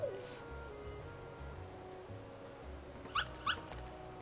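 Puppies whimpering in the Kingdom Hearts video game, faint high yips and whines over quiet background music, with two brief sharper cries near the end.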